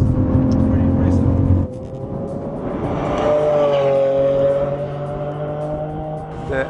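Lamborghini Aventador engine droning as the car drives, loud and close, shifting pitch partway through while someone speaks over it.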